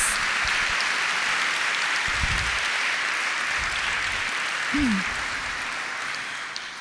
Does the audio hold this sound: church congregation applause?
yes